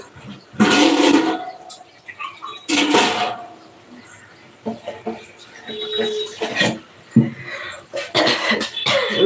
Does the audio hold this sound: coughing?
yes